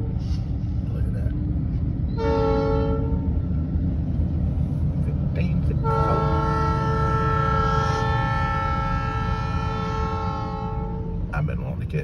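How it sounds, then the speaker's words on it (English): A small Valdosta Railway train rolls past with a steady low rumble, sounding its horn in a short blast and then one long sustained blast. People talk nearby throughout. "I've been wanting to catch that little train through here"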